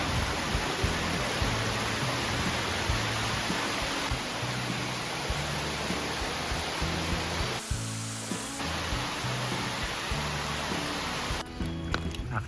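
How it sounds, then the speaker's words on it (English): Massive rainstorm in Saranda, Albania, heard as a steady, dense roar of heavy rain pouring onto the street and sidewalk, continuous and enveloping with no clear breaks. "there's a massive rainstorm right now, and I can't leave"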